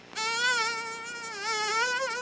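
A steady, nasal buzzing tone drones for about two seconds with a slight wavering pitch, like an insect imitation.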